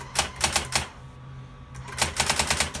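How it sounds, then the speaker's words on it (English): A Brother GX-6750 electronic typewriter types a test line in fast bursts of crisp, close keystrikes, with a pause in the middle before another rapid run of strikes. "Typewriter test for eBay."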